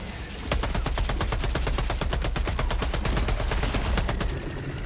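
Rapid bursts of SMG fire in Helldivers 2, loud and close, a steady stream of sharp evenly spaced shots running for several seconds in a fight against the Illuminate.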